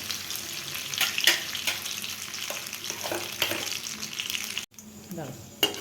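Cinnamon, cloves and bay leaf fry in hot oil for a paneer butter masala, a soft, steady sizzle close by with occasional clinks and stirring sounds.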